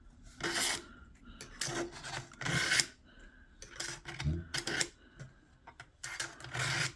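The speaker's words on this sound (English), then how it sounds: "sharpen your knives at home" Knife sharpened on a double-sided diamond-coated sharpening stone: a series of close, gritty rasping strokes in an irregular back-and-forth rhythm, each about half a second, with quiet gaps between.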